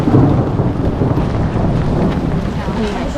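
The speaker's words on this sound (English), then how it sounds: "this is the first time it's rained in the past 2 months" Heavy rain pours down on a street in Rome while thunder rumbles low and continuously, with wind buffeting the microphone throughout.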